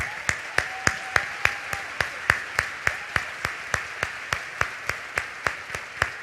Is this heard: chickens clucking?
no